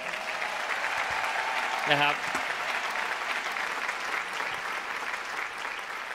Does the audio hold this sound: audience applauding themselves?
yes